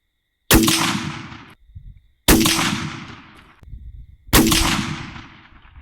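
Three loud, sharp rifle shots fired about two seconds apart during a fallow deer hunt, each a close crack followed by a long decaying rumble and echo, with no talking in between.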